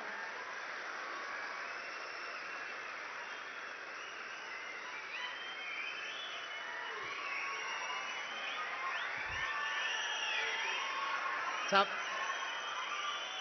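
A large audience at a political speech by a chief minister applauds and cheers, a steady distant wash of clapping filling the space for many seconds while a voice speaks over the crowd.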